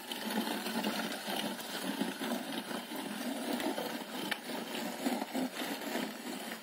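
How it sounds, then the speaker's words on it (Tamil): A five-plow cycle hand weeder is pushed through dry, dusty field soil, giving a faint, steady rattling and scraping churn that continues without pause, with no one talking. "புழுதி வயலில் களை எடுக்கும் கருவி ஐந்து கலப்பை."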